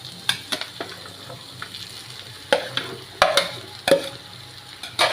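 Tapioca being stirred into sautéed onions in a pan for a stew: scraping spoon strokes and sharp clinks against the pan in an irregular rhythm over a soft, continuous sizzle, close and moderately loud.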